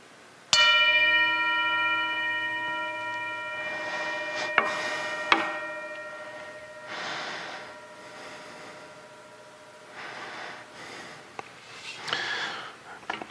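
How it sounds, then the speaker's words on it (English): A bell is struck once during a motivational service, ringing out with a clear sustained tone that slowly decays over several seconds while soft breathy sounds and faint noises follow in a quiet room. "I'm going to ring the bell"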